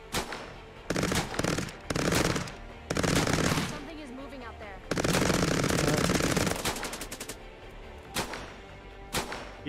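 A turret machine gun in a sci-fi strategy video game firing long rattling bursts of rapid shots with short gaps between them, loud and close, with a voice talking quietly in places.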